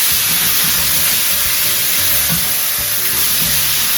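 Meat for chopsuey fries in a pan, a loud, steady sizzle and hiss running continuously, close up, with no voices.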